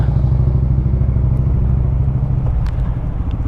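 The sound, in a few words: Honda Monkey motorcycle pulling in to park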